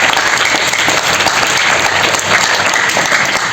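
Loud, dense audience applause at a school storytelling session, sustained clapping from many hands throughout with no talk.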